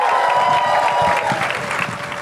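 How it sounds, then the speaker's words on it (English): A theater crowd at a Whiplash 10th-anniversary Q&A applauds the director and cast, dense loud clapping that gradually thins toward the end. "Let's give them a big round of applause."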